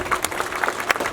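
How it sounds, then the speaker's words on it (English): A short burst of audience clapping at a Churachandpur Women Organisation gathering, with a handful of distinct, fairly close hand claps in an irregular patter. "Kindly clap your hands"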